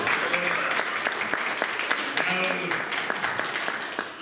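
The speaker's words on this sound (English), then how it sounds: "Give me one more hand clap of praise." An evening church congregation in Norwood, North Carolina claps in praise, steady applause from many hands with voices calling out over it.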